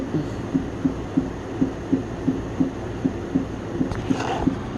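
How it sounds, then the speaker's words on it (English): A 3D printer running while it prints a Borg cube gives off a steady, evenly spaced thumping pulse, about three beats a second, over a low mechanical hum. No one speaks. "I'm still printing."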